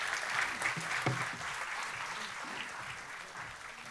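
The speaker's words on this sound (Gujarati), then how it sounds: "મેડમ માટે ફરી એકવાર જોરદાર તાળીઓ થઈ જાય." An audience at a book launch event applauds a speaker, moderate clapping that is strongest at first and gradually thins, with faint voices murmuring underneath.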